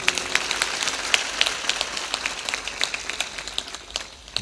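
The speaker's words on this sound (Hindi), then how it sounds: "धतुरिया वालों के लिए जोर से ताली बजा देना।" An audience at a religious satsang gathering claps steadily, with sharp individual claps rising above a continuous wash of applause.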